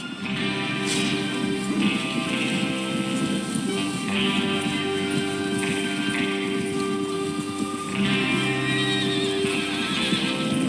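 Horses whinny and snort over a constant rumble of hooves and movement, with several neighs rising above the busy background, in the video game Red Dead Redemption 2.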